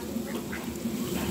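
Ducks being fed rice give faint, scattered quacks over a low, steady background hum.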